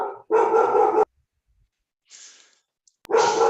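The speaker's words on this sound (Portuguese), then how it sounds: "O cachorro do vizinho ficou bravo aqui." A neighbour's dog barks loudly and close in two short bursts with a quiet gap between them, and a faint softer noise comes in the pause.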